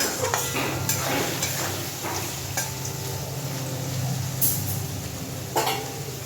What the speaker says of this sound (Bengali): খুব সুন্দর করে আলুটা ভেজে নেব।